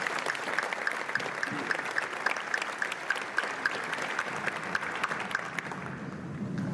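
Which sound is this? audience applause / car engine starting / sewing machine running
audience applause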